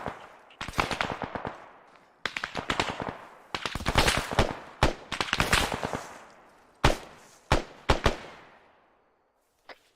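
Rifle gunfire during a military close-quarters combat field training exercise, loud rapid bursts of shots in several volleys with short pauses, ending in a few spaced single cracks.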